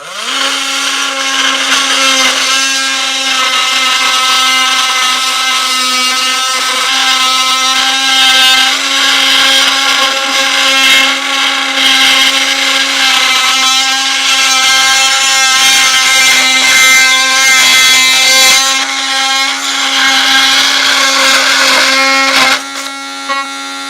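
A jigsaw cuts steadily during a van build, giving a loud, continuous whining buzz with a strong steady tone that runs nearly the whole time and stops abruptly near the end.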